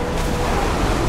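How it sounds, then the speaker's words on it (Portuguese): Strong wind at sea in the video game Assassin's Creed Odyssey, a loud steady roar of gusting air and broad surf-like noise with no break or change across the short stretch. "Que vento!"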